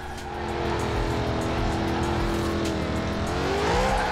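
A Lexus in Forza Horizon 4 drives hard under steady, loud engine drone with a rising pitch near the end, its tires faintly squealing as the car runs continuously up close.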